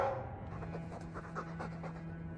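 A Mabari war dog in the Dragon Age 2 video game pants steadily, rapid rhythmic breaths close but soft beneath a low background hum.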